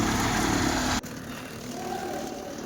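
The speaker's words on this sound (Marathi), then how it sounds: "मशीन चालू झाली आता कुटायला सुरुवात केली आम्ही" Fodder-cutting machine chopping crop for silage on a farm, a loud continuous mechanical drone that drops abruptly after a second and then runs on at a lower, steady level.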